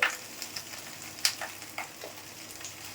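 Curry cooks in a pan on a stove, giving a faint steady sizzle with scattered soft pops and crackles, close by and without talk.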